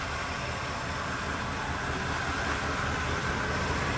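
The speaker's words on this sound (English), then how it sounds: "So it's down at low idle. Listen to how smooth that is." A 1977 Chevrolet Monte Carlo's 305 two-barrel V8 settles at a smooth low idle, a steady, even rumble heard close up and alone with no talking.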